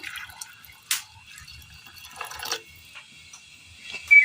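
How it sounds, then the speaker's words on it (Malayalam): Hot water pours into a pan of chopped banana stem and small onions for a Kerala curry, making soft splashing and dripping sounds with a brief louder splash near the start and another at the end. "വേകാൻ ആവശ്യമായ ചൂടുവെള്ളമാണ് ചേർത്ത് കൊടുത്തിരിക്കുന്നത്"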